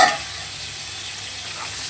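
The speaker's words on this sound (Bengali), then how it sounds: "এবার এটাকে ঢেকে ঢেকে ভাজবো" Pointed gourd with salt and turmeric fries under a lid in a little oil, giving a steady close hiss of sizzling with no voices.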